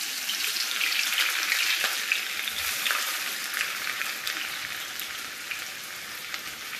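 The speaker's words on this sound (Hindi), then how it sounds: "ऑयल यहाँ पे अच्छे से गर्म हो चुका है और इसमें मैं शामिल कर दूँगी प्याज।" Chopped onions fry in hot oil for curry pakora, giving a loud, dense, continuous sizzle with a steady crackling hiss that fades slightly toward the end, close up and with no voices.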